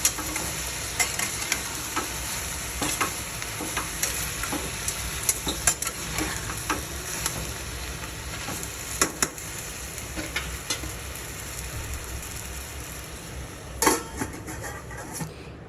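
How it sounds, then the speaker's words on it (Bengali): Ridge gourd and potato frying in a wok, a steady sizzle under repeated spatula scrapes and metallic taps against the pan, close and fairly loud, with no speech. "এবার সেটিকে হালকা নাড়িয়ে চাড়িয়ে আমরা কড়াইটি ঢেকে দেব।"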